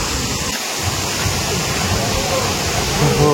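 Soormane waterfall near Chikmagalur roars steadily, a continuous broadband rush of falling water heard close and loud without pause.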